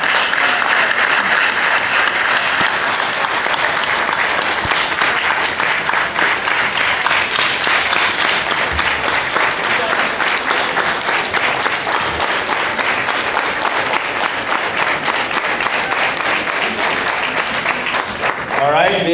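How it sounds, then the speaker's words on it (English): A convention hall audience gives sustained, loud applause for youth participants, a dense wash of many hands clapping steadily throughout with no letup. "A big round of applause for our youth."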